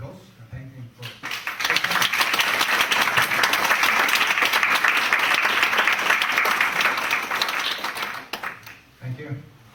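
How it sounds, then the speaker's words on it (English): Convention audience applauding the panelists at the close of a session, dense sustained clapping that swells after a brief voice, holds for several seconds, then fades as talking resumes. "we shall give the panelists an applause and thank them for"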